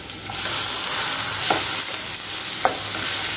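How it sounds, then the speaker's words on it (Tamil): Chopped tomato goes into a hot pan of frying onions for a spicy onion kara chutney, a steady loud sizzle with brief stirring scrapes and spatters. "அடுத்தது ஒரு தக்காளி சேர்த்துக்கலாம்."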